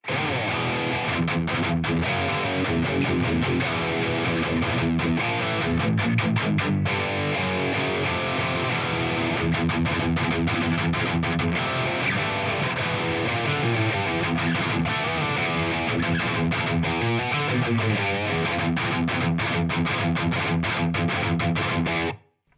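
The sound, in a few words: electric guitar rhythm through amp emulation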